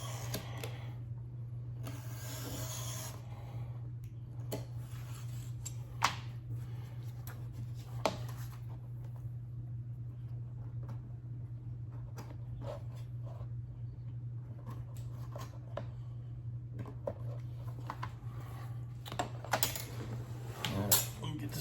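Leather being cut for a sport shooting bag gives scattered soft cutting and scraping sounds over a steady low hum, with pauses between strokes and a few sharper clicks.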